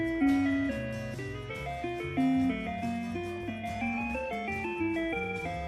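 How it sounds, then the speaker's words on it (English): Cheerful ice cream truck jingle of tinkling melodic chimes plays steadily and fairly faint, note after note in a bouncy tune with no voices. "Do these jingles take you back to the ice cream truck coming around the corner?"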